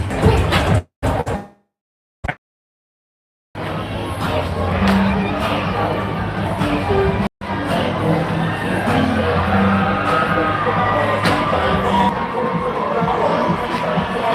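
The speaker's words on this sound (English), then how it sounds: "I mean, it's like the biggest crowd I've ever seen at a place." Dense crowd noise from a packed South Beach street during Art Deco Weekend, a steady broad murmur of many voices that runs continuously after a few brief gaps of silence near the start.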